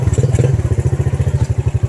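A lowered motorcycle jolts over a rough, bumpy road, its mid-pitched engine chugging in a steady pulsing rhythm with repeated clattering thumps from the suspension, loud and close throughout.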